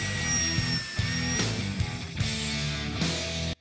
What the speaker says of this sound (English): I drill the hole